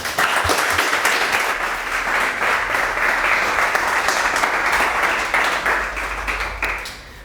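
Loud, dense applause from an evening audience welcoming a speaker at a testimonial event, sustained for several seconds without pause and tapering slightly at the end.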